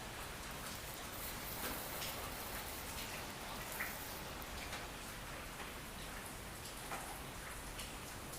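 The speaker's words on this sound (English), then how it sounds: "So I know today, the whole day, it would be raining, and all my plants will get flushed like this." Steady rain falling on potted hoya and orchid plants, a dense even hiss of drops with faint scattered pattering on leaves, constant and soft throughout with no talking.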